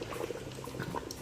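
Fresh water pours into a pot of lamb stew (nihari), a steady bubbling, gurgling liquid rush heard close and fairly soft, with no voices.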